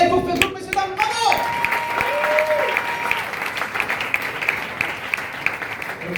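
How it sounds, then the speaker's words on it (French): Live comedy club audience applauding and cheering, a dense sustained wash of clapping under an announcer's voice at the start, continuing steadily to the end. "un public de folie qui va vous applaudir en direct pour Facebook, messieurs, dames, bravo!"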